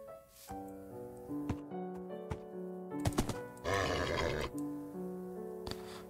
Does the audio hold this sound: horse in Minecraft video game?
yes